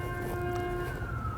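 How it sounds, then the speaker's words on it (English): A siren passes outside, its steady tones sliding slightly in pitch as it moves by, heard indoors at moderate distance over a low background hum. "Let's let the siren go back."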